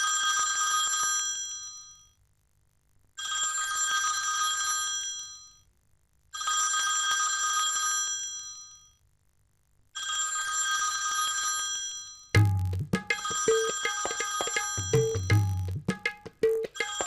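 A telephone rings in four long repeated bursts with short silent gaps, bright and clear, followed by busy background music with sharp hits.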